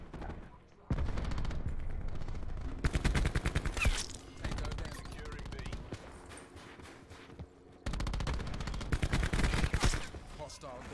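KN-57 rifle in a video game firing in rapid automatic bursts with a rapid-fire attachment, loud clattering volleys separated by short pauses, with a voice talking in between.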